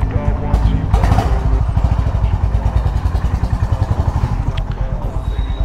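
A Honda CB350 H'ness motorcycle on a test ride, its engine thumping in a loud, close, steady pulsing beat, with a person talking over it.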